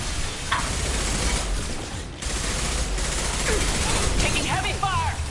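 Heavy sci-fi gunfire in Mass Effect 2 rattles in dense, sustained bursts, with a short lull near the middle and chirpy weapon effects layered over the barrage.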